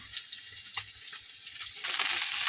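Small bata fish frying in oil in a pan, a steady close sizzle and crackle that swells louder near the end, with no talk.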